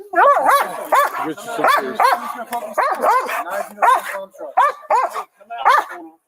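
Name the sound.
dog barking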